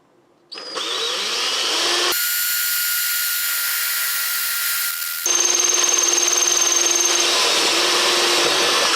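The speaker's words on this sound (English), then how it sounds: "I'm going to go drill this all the way through, both sides" A power drill bores through a plastic bracket while a right-side bracket is fabricated for an electric WR250E conversion: a loud, steady, high-pitched whine running several seconds, with a pitch shift partway as the bit speeds up, no voices.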